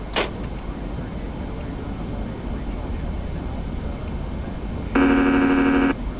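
Landing gear extending on a TFDI 717-200 airliner in the Prepar3D flight simulator: a loud, steady mechanical whir for about a second over constant cockpit engine hum, with a brief click near the start.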